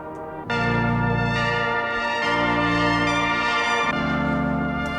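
A rich, sustained synth patch from the Elskavon toolkit plays alone, holding layered harmonic tones and deep bass notes that shift between chords over several seconds.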